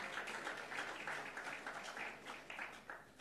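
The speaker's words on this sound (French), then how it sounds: "vous pouvez applaudir ces dirigeants" An audience applauds political leaders with steady, even clapping that stays moderately distant and fairly soft throughout, without pausing.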